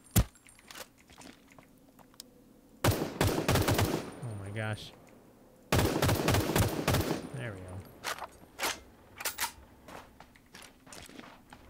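AK rifle fire in the online battle royale game Ring of Elysium, with two long full-auto bursts mixed with scattered single shots and clicks, loud and close, and someone talking between the bursts.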